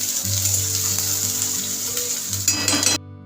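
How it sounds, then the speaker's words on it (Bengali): Noté greens frying in mustard oil with dried red chili, garlic and onion, a close steady sizzle with faint utensil clinks and a low background hum, cutting off abruptly near the end. "এদিকে আমি নোটে শাকটাকেও ভাজতে রেখে দিচ্ছি সর্ষের তেলেতে শুকনো লঙ্কা রসুন আর পেঁয়াজ দিয়েছি"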